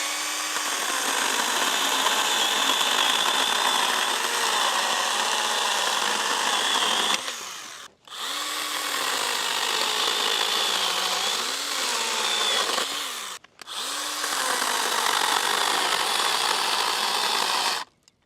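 A battery chainsaw cuts through wood in long steady passes, its high whine continuous and loud, dropping out briefly twice as the cuts finish before resuming.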